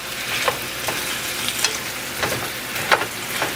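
Chicken stir fry sizzling steadily in a pan, a close, continuous crackling hiss broken by a few soft scraping stirs, with no voices.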